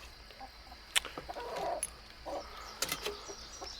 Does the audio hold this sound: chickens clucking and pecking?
yes